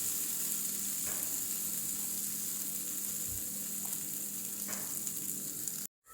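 Jackfruit seeds fry in hot oil with a soft, continuous sizzling hiss, fairly faint and even throughout, with a few light stirring taps before it cuts off abruptly.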